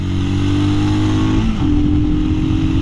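Royal Enfield Scram 411 motorcycle engine running steadily on a twisty road, a loud close droning note that dips briefly mid-clip as the revs shift, then climbs and holds again.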